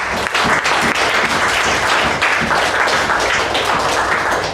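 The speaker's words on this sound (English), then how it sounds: "A round of applause for all of you" An audience at a meeting applauds loudly and continuously, a dense close wash of clapping that fills the whole stretch.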